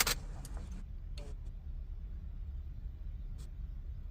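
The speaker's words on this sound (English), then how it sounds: "So I'm going to switch off the ignition." Ignition of a 2011 Acura TSX being switched off, a sharp click of the key at the start followed by a few faint ticks and a low, quiet idle-like rumble.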